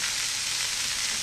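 Beef patties of 80/15 ground beef sizzle loudly and steadily over the fire, a dense, unbroken frying hiss up close with no voices.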